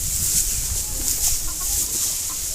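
Chickens cluck and peck while eating grass outdoors, with soft, steady close-by fowl sounds over background hiss.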